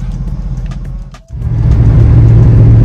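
A Chevy Silverado 1500 ZR2 pickup in four-high off-road mode on low tire pressure drives close by, its engine note dipping briefly before a loud, steady rumble and road roar build and hold.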